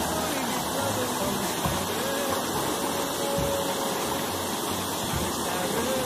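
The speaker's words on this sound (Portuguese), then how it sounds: "Essa é a outra queda d'água." Waterfall along a trail, a steady dense rush of falling water filling the scene continuously from start to end, with faint voices and footsteps beneath it.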